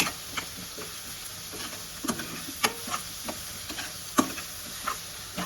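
Radish tempering frying in oil in a pan, a steady soft sizzle with scattered light clicks and scrapes of stirring throughout.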